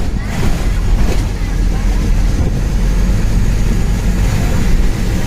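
Continuous loud rumble of a vehicle on the move, with engine drone and wind-like roar throughout and voices faintly underneath.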